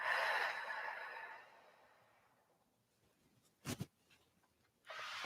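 A long, deep exhale of breath during a gentle energy exercise, loud and breathy at first and then fading to near silence, followed by a short sharp sniff and then another breath.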